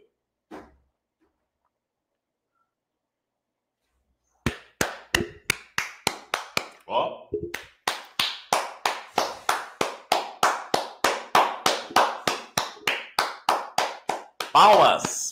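A man claps his hands in a steady, rhythmic series of about thirty sharp, close claps after a silent pause, with a brief voice at the very end.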